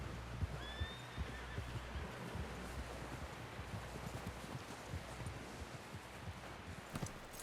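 A horse whinnies and shifts its hooves amid a busy, noisy outdoor scene, with a rough continuous rumble and scattered knocks underneath, moderately close.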